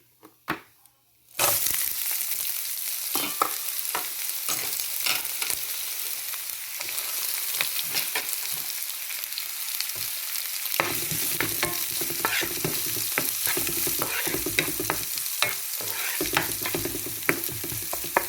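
Chopped onion, dried red chillies and curry leaves sauté in a pan with a steady, loud sizzle, punctuated by frequent scraping stirs; a few soft clinks open the sequence before the frying noise settles in continuously.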